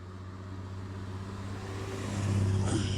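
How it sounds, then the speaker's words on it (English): A car drives up and approaches along a road near a waterfall trailhead in post-hurricane North Carolina, its engine hum steady and then growing louder and closer toward the end. "There's a car coming"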